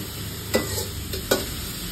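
Corn being stir-fried for chicken soup in a shop kitchen, with a steady sizzle and two or three sharp scraping strokes of a utensil in the pan, close and clear with no talking.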